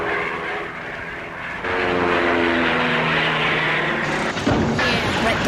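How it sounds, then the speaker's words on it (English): A rubber-band-powered toy propeller airplane flying, its propeller giving a steady droning buzz with a clear harmonic whine that strengthens after a couple of seconds and stays loud and close to the end. "As I wind up this propeller, the rubber band stores energy, and that energy can be released to make the airplane fly."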